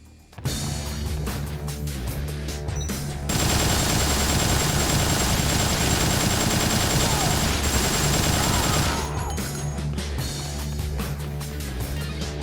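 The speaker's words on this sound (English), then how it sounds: "the park is guarded by a helicopter with missiles and machine guns" A video game helicopter's rotor thrums continuously while bursts of machine gun fire rattle over it, loudest through the middle stretch, with a steady engine drone throughout.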